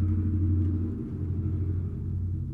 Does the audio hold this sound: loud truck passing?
yes